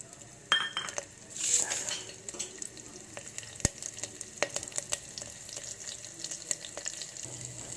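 Asafoetida, cumin and green chillies sizzling in hot oil in a pan, a soft sizzle under clinks and scrapes of a utensil against the pot, with a sharp metallic knock partway through, no talk.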